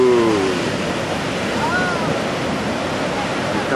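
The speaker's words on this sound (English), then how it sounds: "Watch out, those waves can swallow you." Ocean surf rushing and crashing steadily at a beach around sunset, a loud, dense wash of breaking waves filling the whole moment with faint voices underneath.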